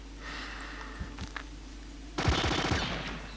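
Covering gunfire from the video game Incubation: after a quiet stretch with a few isolated thumps, a loud, rapid burst of automatic fire rattles out and then trails off.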